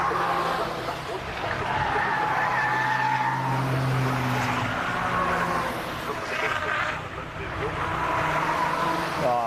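Race cars in an EnduroKA endurance race speed past on the track, engines rising and fading as they fly by, with tire noise and a running commentary voice over the roar.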